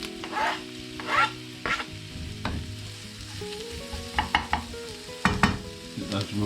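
Onions and garlic fry in olive oil in a pan for a spaghetti bolognese, with a soft steady sizzle and repeated scraping stirs, quiet and close with no talking.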